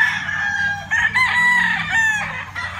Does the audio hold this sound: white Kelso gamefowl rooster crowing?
yes